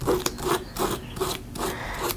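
A rolled piece of sticky tape rubbed over watercolor paper gives close, rhythmic scratchy strokes, about six quick back-and-forth rubs in two seconds.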